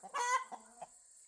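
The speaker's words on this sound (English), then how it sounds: "Brown chicken is yelling." A brown chicken clucks and squawks nearby, a short loud call followed by two quieter clucks.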